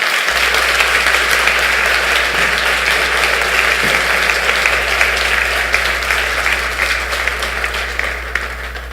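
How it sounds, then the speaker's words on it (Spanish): A church congregation at a Sunday service gives a long round of applause, a broad, steady roar of clapping over a low constant hum that gradually eases toward the end. "Démosle un aplauso al Señor."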